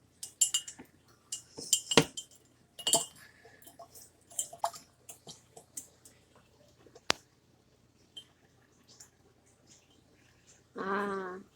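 A teaspoon stirs sugar into water in a glass, clinking repeatedly against the sides in quick irregular bursts that thin to sparse taps. A short voice comes in at the end.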